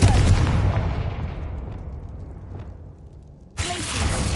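A Confringo fire spell blast in a video game: a loud burst that decays over a few seconds into a fading rumble, then a second sharp blast hits abruptly near the end.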